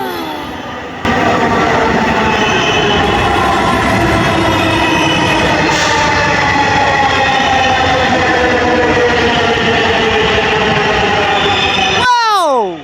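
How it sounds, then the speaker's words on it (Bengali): A metro train pulls into a station with a loud, rising and falling mechanical whine and rumble that holds steady for several seconds, a speaking voice faint beneath it. "আমি এখন ট্রেনের মধ্যে উঠে যাব, ট্রেন চলে আসলো বিধায়।"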